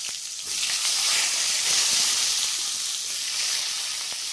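Long strips of sliced eggplant hit a hot oiled pan for a Bengali vegetable dish with bata fish and potato. A loud, steady hissing sizzle bursts in after a brief quiet moment and holds close and even to the end, with no talking.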